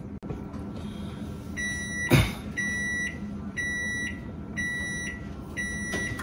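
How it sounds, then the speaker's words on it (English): An oven's kitchen timer going off with a repeated series of short, high electronic beeps in a steady on-off rhythm, clear and moderately loud, with a brief clunk partway through. "you can hear the timer going off"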